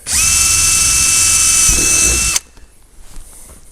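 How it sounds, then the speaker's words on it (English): A power drill bores a hole at the end of a crack in a Jaguar X-Type plastic bumper, a loud steady high whine for over two seconds that stops abruptly, followed by faint handling noise. "drill a hole at the very end of the crack just to stop it from going any further"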